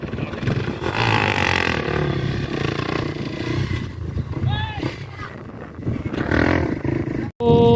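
An engine roars and rumbles steadily beneath someone talking, the noise staying loud throughout before cutting off briefly near the end.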